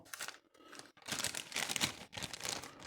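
A plastic bag crinkles and rustles close up in bursts separated by short pauses, while something is packed away during a gardening or seed-preparation task.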